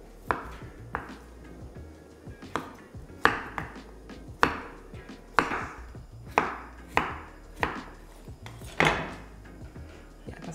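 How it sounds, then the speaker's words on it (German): A knife cuts potatoes into wedges on a cutting board in a home kitchen, with about fifteen sharp, separate chops at a loose, unhurried pace, close up and with no talking. "in der Zwischenzeit können wir auch die Kartoffeln schon in Spalten schneiden"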